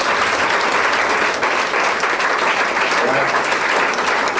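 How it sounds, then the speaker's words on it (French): A church audience at an evening teaching service in a French-speaking congregation applauds and cheers for Jesus, with dense, steady clapping and crowd voices filling the whole stretch at full, even loudness. "On acclame Jésus encore."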